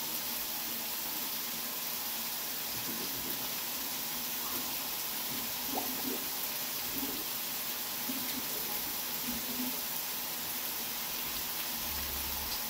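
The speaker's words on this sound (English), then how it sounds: "let me just turn my back to the sink and drain these noodles" Cooked ramen noodles drain in a kitchen sink, a steady broadband hiss of pouring water running without a break, close by, with faint clatters underneath.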